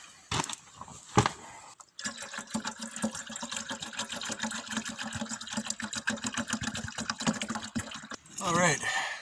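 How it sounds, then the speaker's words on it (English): Water runs steadily into a container at a hunting camp, a continuous close splashing fill lasting several seconds after a couple of brief knocks, ending with a shift in pitch as the vessel fills. "excuse me while I go ahead and fill this up with water really quick."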